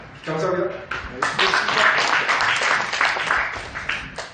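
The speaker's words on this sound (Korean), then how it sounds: "수고해주신 우리 교수님께 다시 한번 큰 박수 부탁드립니다" A lecture audience of elderly students applauds their professor at the close of a semester talk on Confucian ethics in Korea; a voice speaks briefly, then steady clapping from many hands fills the room.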